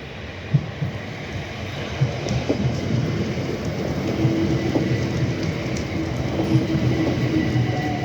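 Steady rumble of a moving train in London heard from inside, with occasional clicks and rattles of the carriage over the tracks.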